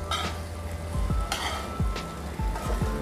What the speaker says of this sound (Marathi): बटाटा आणि भेंडीची परतून छान क्रिस्पी करून घ्यायची।